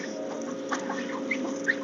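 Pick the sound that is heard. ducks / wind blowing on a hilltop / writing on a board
ducks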